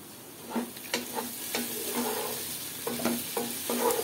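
Two bay leaves sizzling in hot oil in a pan while being stirred, a soft continuous crackle broken by several light spoon scrapes and clinks at an even pace, fairly quiet and without talk.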